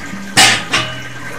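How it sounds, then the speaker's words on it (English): A composting toilet with earthworms, topped with sawdust or wood shavings, is flushed in two short, loud rushing bursts that fade out quickly, with no one talking. "and then simply flush it down"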